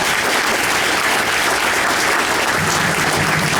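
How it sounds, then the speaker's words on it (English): Dense, steady applause from a college graduation audience honouring staff, a broad continuous roar of many hands clapping throughout, loud and close, with no voices standing out. "So let's give them a round of applause"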